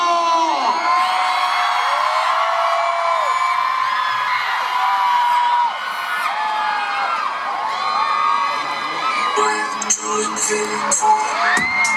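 A large crowd at a concert screaming and cheering continuously, high-pitched shrieks and whoops blending into a loud, sustained roar.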